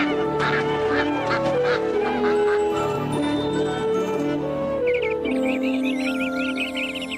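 Ducks quack and geese honk together in a loud, busy chorus of overlapping calls, with the quacking growing denser and more rapid toward the end.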